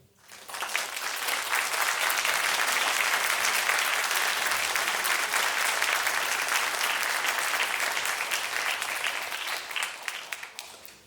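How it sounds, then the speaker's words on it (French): Sustained applause from a concert audience greeting the new clarinet teacher at a wind ensemble's jazz concert, a dense steady patter of many hands lasting around ten seconds before tapering off, with no voices over it. "Notre nouveau professeur de clarinette, Alreis, que je vous demande d'applaudir."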